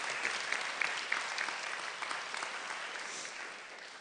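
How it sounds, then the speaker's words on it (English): An audience at a TIFF 2018 industry panel applauds to welcome the guests, a dense, even burst of clapping that holds steady for several seconds and tapers slightly at the end. "Huge round of applause."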